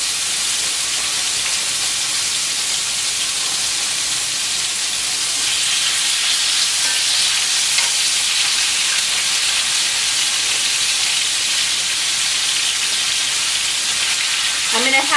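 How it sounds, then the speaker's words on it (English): Finely chopped shredded sirloin sizzles steadily in a cast iron pan, a loud, continuous frying hiss that runs alone and close for the whole stretch. "sirloin, and I'm going to lay it in my cast iron"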